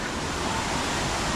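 Vera Falls pours down in a dense, unbroken roar of rushing water, loud and close, filling the moment with steady white noise and no voices.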